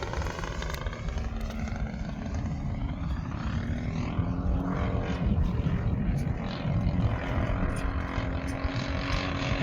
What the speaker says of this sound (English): let's do a couple of touch and goes here